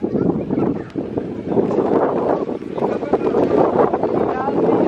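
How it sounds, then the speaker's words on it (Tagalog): Strong wind buffets the microphone at a parasailing spot on the Egyptian coast, a continuous loud rumbling roar with gusty swells, while a person talks. "It's good here because it's windy."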